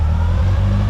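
A Suzuki Samurai 1.3 or 1.6 engine converted to run on propane idles steadily as its idle speed is raised, a continuous low mechanical drone with no talk over it.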